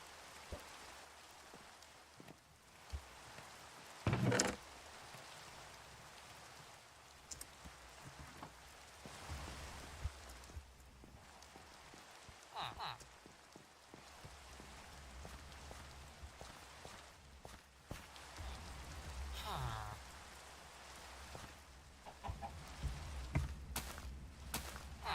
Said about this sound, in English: Did it start raining after we slept?